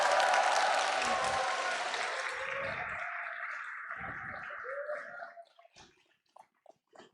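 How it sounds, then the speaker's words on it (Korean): Audience applause for a guest speaker at a talk, a broad wash of clapping that holds for about five seconds, then thins out and fades into scattered faint sounds. "큰 박수로 다시 한번 용기 주시겠어요?"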